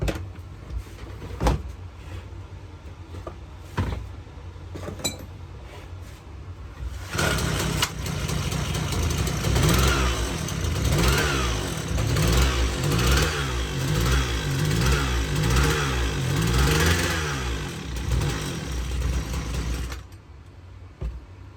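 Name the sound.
McCulloch ErgoLite 6028 chainsaw engine idling, idle screw adjusted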